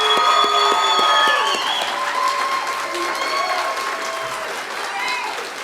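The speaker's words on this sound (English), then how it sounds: "Let's give this group of graduates a round of applause here to get started" An audience at an adult education graduation ceremony applauds the standing GED graduates, sustained clapping filling the hall with a few cheers, while voices and tones from the ceremony sound over the top at the start.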